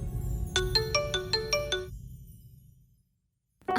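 A mobile phone ringtone plays a quick run of bright, evenly spaced electronic tones up close, then cuts to silence before a brief new sound at the end.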